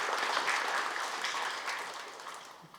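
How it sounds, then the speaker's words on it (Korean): Forum audience applauding after a panel speaker finishes, a full crowd clapping that starts strong and gradually tapers off over a few seconds, with no speech on top. "박수 부탁합니다"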